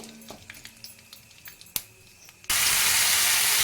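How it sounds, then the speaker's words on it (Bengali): Black mustard seeds and curry leaves hit hot oil for a green mung dal dosa: a few faint crackles give way to a sudden, loud, steady hiss of sizzling close by. "এইবার দিয়ে দেব এক চামচ কালো সর্ষে তারপর দিয়ে দিচ্ছি ক্যারি পাতা একটু হালকা নাড়াচাড়া করে নিচ্ছি"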